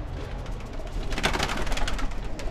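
Pigeons coo in a loft, soft repeated throaty calls overlapping at close range against a low background hum, with no talking.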